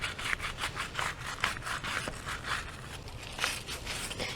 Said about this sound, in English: And then just do the same thing with the brush. Just kind of scrub this in.